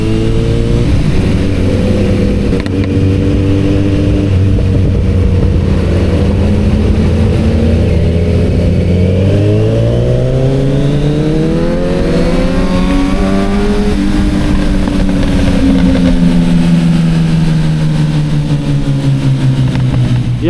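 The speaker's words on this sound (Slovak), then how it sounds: "Jak sa nám zladili tie zvuky otáčiek motorov na oboch Z-kách" Two motorcycles with the same engine ride through a city at night, their engines droning loudly and steadily, then revving up together in rising pitch sweeps near the end, with no talking.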